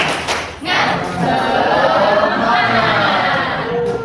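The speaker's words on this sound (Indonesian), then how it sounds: "Oke, tepuk semangat." A school class performs a rhythmic spirit clap led by a teacher, a few sharp claps and thumps followed by children's loud chanting and crowd noise, with voices throughout.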